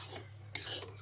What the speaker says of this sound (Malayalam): ഒന്ന് നന്നായി കുറച്ച് 2 മിനിറ്റ് ഇളക്കി കൊടുക്കാം